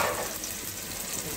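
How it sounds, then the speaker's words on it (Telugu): Onions and fish fry in a pan for a Rayalaseema fish curry, making a dense, even, close-up sizzle and crackle throughout the brief moment, with no voices. "స్టార్ట్ అయినాయి వేగడం, సౌండ్స్ వస్తున్నాయి"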